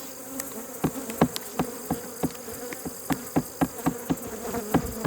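Bees buzz around an open hive during a honey harvest, a close, dense drone broken by sharp, regular knocks and taps on the hive woodwork, with no talk.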